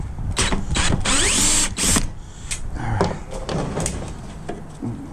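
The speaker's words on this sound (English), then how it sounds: "It's got super fast mode, which works great for pulling screws out in a hurry." A cordless impact driver in super fast mode backs screws out of a large flood light, sounding as loud bursts of whirring and ratcheting with brief pauses between them, up close.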